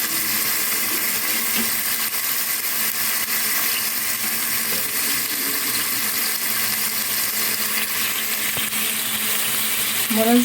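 Beef cooking in a dry pan with no oil, for beef stroganoff, a continuous close hiss and sizzle at even loudness, with faint clinks and a brief louder scrape at the very end.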